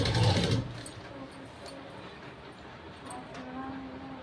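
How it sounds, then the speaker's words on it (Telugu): A sewing machine stitches lace around the neckline of a blouse, its steady motor whir running close and even after a brief louder start, with someone speaking over it. "ఇక్కడ నుంచి నేను ఈ చివరికి ఈ విధంగా స్టిచ్చింగ్ అనేది చేస్తున్నాను."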